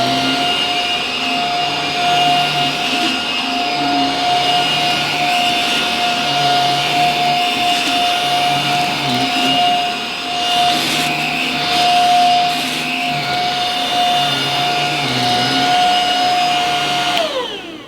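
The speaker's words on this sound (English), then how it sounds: "I had no trouble pushing this vacuum cleaner on my plush pile carpet on the default setting" Simplicity S65D cordless vacuum cleaner running on plush pile carpet, a loud, steady high-pitched motor whine with brush rumble that holds throughout, then cuts off abruptly at the end.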